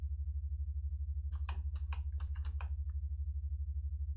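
Typing on a computer keyboard during play of the 1989 game Space Quest 3: a quick burst of about seven crisp key clicks in the middle, alone over a steady low hum.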